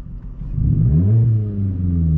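Vauxhall Corsa engine revving hard with a throttle controller in race mode, a quick pedal tap sending a loud, close rev rising and holding before easing off, with no talk.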